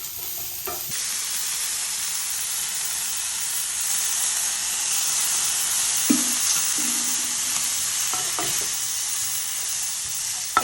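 Chicken sizzles and hisses steadily in a hot pan for spaghetti, with a few clinks and stirring scrapes of a utensil over the constant frying noise; no one speaks.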